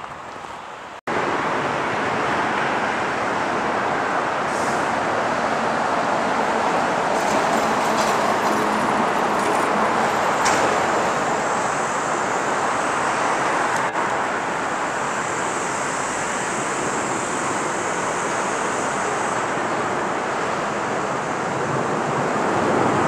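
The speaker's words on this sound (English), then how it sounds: "Passing underneath the main north-south freeway here." Steady, dense roar of traffic on the main north-south freeway overhead, heard from a walkway underneath on Grand Rapids' west side in winter; a continuous broadband rush that stays loud and unbroken with no talk.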